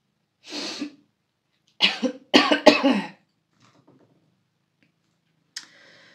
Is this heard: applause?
no